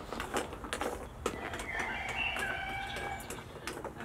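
Domestic chickens cluck and call faintly in a backyard amid scattered clicks and knocks, their voices carrying steadily through the middle of the stretch without talk.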